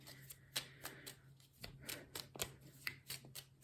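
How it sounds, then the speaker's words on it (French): Oracle de Lucie cards are shuffled and drawn by hand: quiet, close, rapid papery flicks and slides come in irregular bursts with soft rubbing between them. "je prends 3 petites cartes de l'oracle de Lucie"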